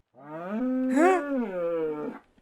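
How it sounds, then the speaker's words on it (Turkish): A single drawn-out cow moo from Minecraft, a clear close-up bovine call that rises and then falls in pitch over about two seconds, heard alone. "o inek sesi miydi lan?"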